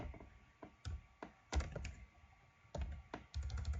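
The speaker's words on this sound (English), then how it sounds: "So we're typing snowflake" Computer keyboard typing: irregular clusters of light, close taps and thunks, several quick keystrokes grouped in bursts with short pauses between them, fairly quiet.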